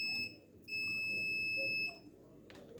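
A multimeter in continuity mode beeps while probing the ground pins and red wires of a laptop charging port on a dead motherboard. Two steady, fairly loud electronic tones sound, a short one then a longer sustained one, over low background noise.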